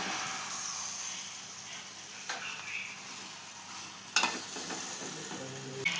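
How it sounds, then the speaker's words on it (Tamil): Drained macaroni pasta with garam masala and spices stirred in a hot pan, a continuous sizzle broken by a few spoon scrapes and clacks against the metal, close and without talking. "வடிகட்டி வச்சுருந்த பாஸ்தாவை போட்டு கிளறணும்"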